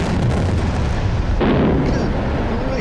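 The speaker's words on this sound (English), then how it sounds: "I think I expected an explosion." A controlled explosion of unexploded ordnance in Vietnam produces a loud, roaring blast that swells partway through into a heavy, sustained rumble.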